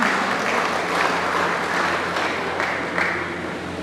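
An audience breaks into steady, dense applause for a young poet at a Hindi poetry gathering, the clapping sustained and fairly close throughout with a low hum beneath it.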